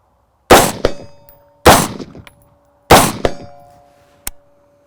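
AR rifle in 5.56 fitted with a standard muzzle brake: three loud, sharp, evenly spaced shots, each with a long ringing decay, then a fainter fourth crack.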